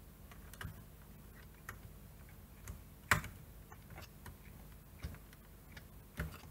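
A screw is driven into the plastic section of a Jumper T16 radio transmitter, giving faint, scattered small clicks and ticks with one sharper snap, all quiet and close against a hushed background.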